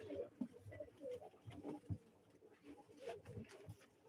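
Pigeons at a live pigeon auction coo softly and repeatedly, low throaty calls in a quiet, close setting with faint rustling between them.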